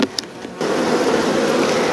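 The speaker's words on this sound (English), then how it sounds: "Ah, wasps, get out of here." Wasps hover around an open beehive brood box, a steady close buzzing drone that swells in after a brief quieter moment and continues without any talk.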